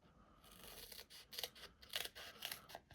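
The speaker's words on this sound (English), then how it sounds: "cut myself some of this foam sheet like that" Scissors snipping through a thin foam sheet for a card project, a series of short crisp cuts of varying loudness close to the mic in a quiet room.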